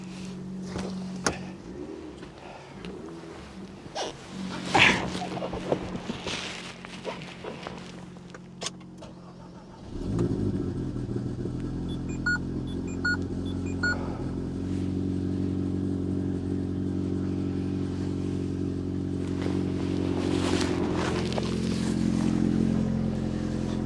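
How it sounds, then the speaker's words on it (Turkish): A small turbocharged Alpine A110 engine cranks and catches after a few clunks, then settles into a strong, loud idle with a rising rev near the end. "Motor sesini bir duyalım. Ben size bir aracı çalıştırayım."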